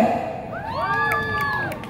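A street crowd in Chinatown gives a short cheer, with several voices shouting and whooping together in rising, sustained tones, fairly near and loud for about a second.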